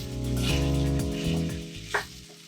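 Carrots frying with tomato and spices in a pan, giving a steady close sizzle that swells and fades with stirring, with a brief scrape near the end.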